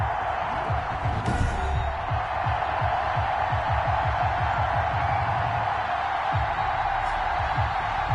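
Stadium crowd ambience from an NFL football video game on PS4, Tampa Bay Buccaneers against the home team, a steady dense roar of many fans with a repeating low rhythmic pulse underneath, loud and continuous throughout.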